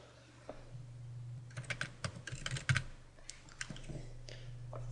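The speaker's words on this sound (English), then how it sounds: "I'm going to type a quick search." Someone types a short search on a computer keyboard: a burst of quick, close key clicks in the middle with a few scattered taps after, over a low steady hum.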